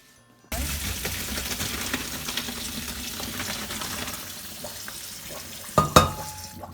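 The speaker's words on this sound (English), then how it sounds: "So it's ready, and we can drain it now." Freshly cooked homemade pasta is drained in a kitchen, with a steady, close rush of pouring water and splashing that runs throughout, ending with a couple of sharper clatters near the end.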